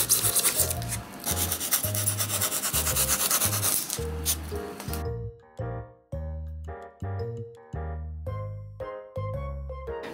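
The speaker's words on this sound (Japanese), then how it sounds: "一度外してカッターなどで削って形を整えていきます" Foam diorama scenery for an N-gauge snowy landscape being shaved and shaped with a craft knife: a dense rasping scrape at first, then a run of short separate scraping strokes, close and fairly quiet, with no talk.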